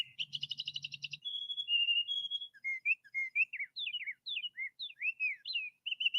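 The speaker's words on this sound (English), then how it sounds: "Could you imagine trying to go to sleep to these lovely birds?" Birdsong sound option playing from a Tribit wireless home speaker: a fast trilled chirp series followed by varied clear whistled phrases and warbles, bright and fairly close, alone without talking.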